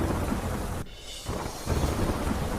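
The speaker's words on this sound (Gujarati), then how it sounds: "દિલ્હીમાં ધોધમાર વરસાદથી જનજીવન પ્રભાવિત" Heavy monsoon rain pours down over flooded Delhi streets, a loud, dense, continuous roar of falling water with a brief dip midway before the downpour surges again.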